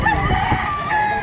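A gamecock, one of a line of bred fighting roosters at a Philippine fowl sale, crows in a sustained call against steady background noise.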